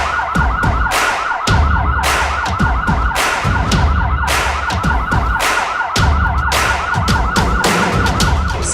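An ambulance siren wails loud and close, its tone sweeping up and down in a fast repeating cycle that never stops, with no voices over it.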